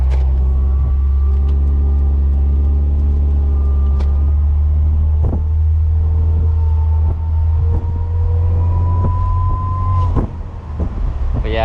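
A 1998 Mercedes-Benz SLK 230 drives along with a steady low engine drone, faint whining harmonics rising and falling through gear changes, and light wind rumble throughout; a brief bump of handling noise near the end.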